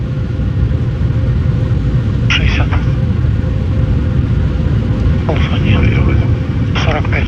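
An airplane on landing approach gives a loud, steady engine drone heard from inside, with a few brief higher tones over the rumble and voices speaking now and then.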